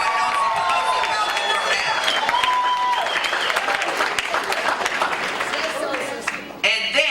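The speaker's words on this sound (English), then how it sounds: "Y'all need to clap louder than that." A large audience at a Martin Luther King Day event claps in a dense, sustained wash of applause with scattered cheers, while a speaker talks over it; near the end the applause thins out.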